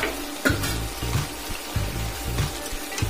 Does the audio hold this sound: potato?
yes